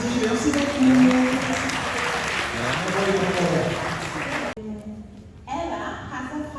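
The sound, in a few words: audience applause at school musical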